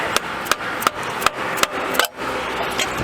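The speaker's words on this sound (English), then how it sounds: "we're going to give this a little tap, see if we can knock it loose." Sharp, evenly spaced taps at close range, about six in a row, knock an old Ford 6.0 water pump loose, followed by a few quieter scrapes and no talking.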